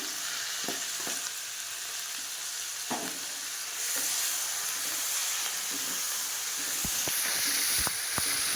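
Tomato and cumin paste frying in a pan gives a steady close sizzle and hiss for the whole stretch, broken by scattered clicks and knocks of stirring, louder near the end. No one speaks.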